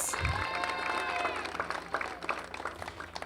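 At a college softball senior day, the audience in the stands gives a steady round of applause with some cheering. It is heard from a distance and holds at an even level.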